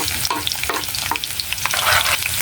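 Onion frying in plenty of oil for a sautéed eggplant dish crackles with a steady sizzle, broken by repeated stirring scrapes and clicks close to the pan, with no talking.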